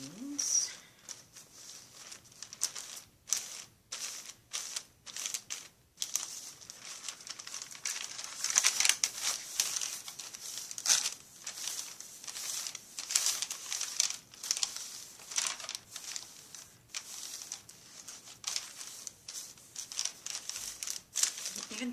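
Paper pages crumpled by hand, a long run of loud, dense crinkling bursts with brief pauses, close and continuous over many seconds.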